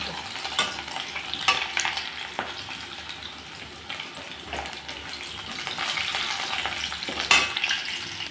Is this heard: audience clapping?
no